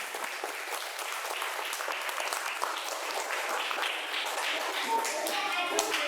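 A classroom of students applauds a group during a lesson on biodegradable waste, a steady, dense patter of clapping hands that runs throughout, with voices mixed in.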